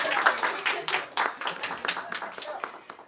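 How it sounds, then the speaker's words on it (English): At a Swami Vivekananda birthday celebration, an audience gives a short round of uneven clapping that rises and dips over a few seconds, with some talk mixed in. "Everybody give a big round of applause for our friend here."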